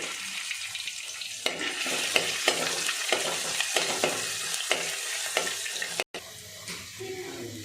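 Ginger garlic paste and green chilies frying in hot oil in a pan, a steady close sizzle broken by repeated stirring scrapes and clinks, with no talking.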